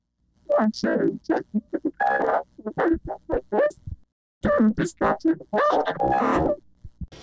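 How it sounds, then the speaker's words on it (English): A voice processed through a synthesizer vocoder talks in short bursts with pauses, its syllables robotic, buzzy and synthetic, fairly close and clear. "you should hear my voice being vocoded"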